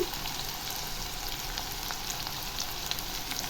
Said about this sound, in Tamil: மிளகாய் தூள் போட்டு நல்லா ஃப்ரை பண்ணிடுங்க